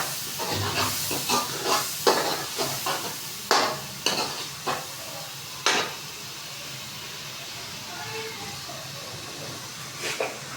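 Masala for aloo matar sizzling in a pan while a spoon stirs and scrapes through it, with irregular clattering strokes over a steady frying hiss, close by and fairly loud, easing into a softer sizzle toward the end.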